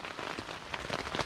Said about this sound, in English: Just kind of waiting for a little break, a little reprieve maybe in the rain.